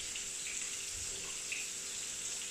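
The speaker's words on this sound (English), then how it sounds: "I'm just going to add some boiling water. I'm going to cover the couscous." Boiling water pours steadily over couscous in a kitchen, a continuous close hissing splash with no breaks and no talking.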